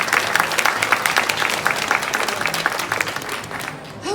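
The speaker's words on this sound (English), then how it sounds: "Big round of applause for Nikki." An audience applauds warmly for Nikki at a talk on inclusiveness and intimate apparel, a steady, dense clapping sustained throughout before easing off at the end.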